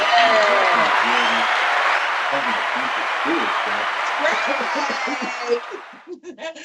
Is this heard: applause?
yes